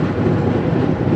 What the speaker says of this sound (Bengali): ট্রেন তো যাচ্ছে, কখনো আসতে কখনো জোরে এখন